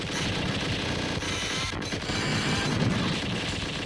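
Continuous rapid light-gun fire in the arcade game Alien 3, a dense mechanical rattling stream of shots with clattering effects layered over game audio, steady and loud throughout.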